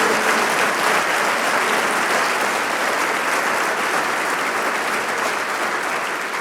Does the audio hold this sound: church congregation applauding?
yes